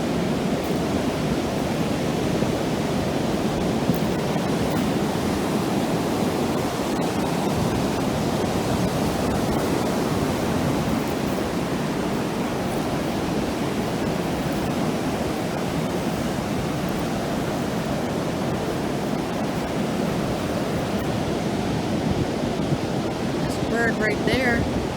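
Ocean surf surging against rocks on a rainy beach, a steady, dense roar of breaking water that holds unbroken throughout, close and fairly loud.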